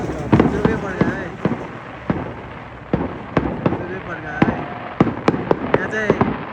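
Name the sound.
fireworks firecrackers bursting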